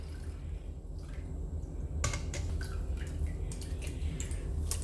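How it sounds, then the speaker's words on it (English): Finger millet milk, ragi soaked and ground with about half a liter of water, straining through a sieve, giving a soft steady trickle and drip of liquid that grows louder partway through, with no talking. "I'm going to pass this through the sieve."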